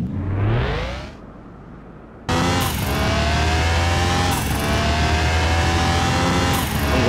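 A Nissan Skyline R34 GTR on racing slicks in Car Mechanic Simulator 2021 winds up loudly in a rising engine sweep, cuts off, then roars on through rapid gear changes with sharp shift breaks, alone without talk.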